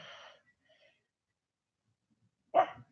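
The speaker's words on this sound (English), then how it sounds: "This is my dogs barking." Two dogs give one loud, close bark near the end, preceded by a softer burst of noise at the start and near-silence between.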